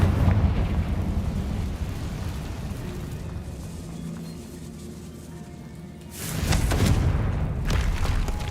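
Confringo blasting spell in the video game Hogwarts Legacy, a deep booming explosion with rumbling low end, first a sustained rolling blast then a fresh loud burst near the end, with no talking.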